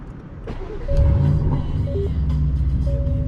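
Aston Martin DB11 engine cranking and firing up, a sharp start at about one second swelling into a loud, steady low rumble that settles into a smooth idle heard from inside the car.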